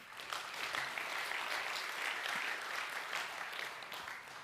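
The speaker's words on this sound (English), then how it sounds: "Give him a round of applause" A room full of people at an annual sports awards claps in a steady, dense round of applause that holds even for the whole stretch, with no voices rising above it.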